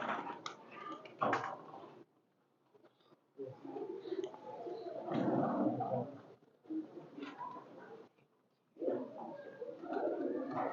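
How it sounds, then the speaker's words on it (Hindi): Medium-sized, medium-weight pigeons cooing in repeated low throaty bursts separated by short pauses, close by and moderately loud. "दरमियाने साइज, दरमियाने वेट के कबूतर।"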